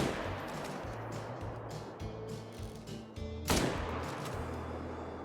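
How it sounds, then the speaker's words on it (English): Rifle fire from a .300 Magnum aimed at black bears in the hunting game Call of the Wild, with one sharp, loud shot cracking out late against a steady outdoor ambience and a few faint earlier thumps. "We're gonna go ahead and blast both of these if we can with the 300 Magnum"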